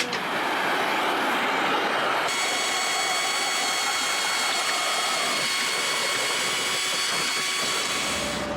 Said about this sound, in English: I drill out some rotten core